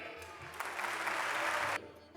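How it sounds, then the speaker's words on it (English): Audience applause for Assemblyman Phil Ramos at the Akshardham event, a dense burst of clapping that swells for about a second and cuts off abruptly, with faint voices around it. "Please give him a round of applause as we ask him to address the greater audience."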